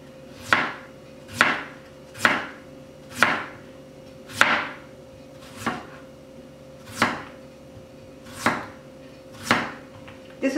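A knife slices peeled potatoes thin on a cutting board, about eleven crisp, evenly spaced chops at a steady rhythm, close and clear with no talking.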